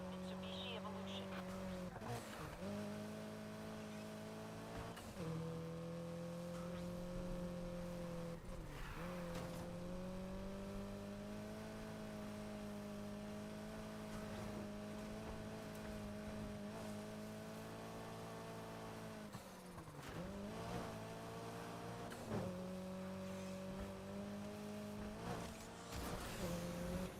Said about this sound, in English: I'm chasing after a custom Mitsubishi Evolution